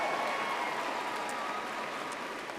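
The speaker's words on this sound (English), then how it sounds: "Let's give them one more round of applause." Audience applause at a graduation ceremony, a steady wash of clapping that holds even and fairly faint through the whole stretch with no voices over it.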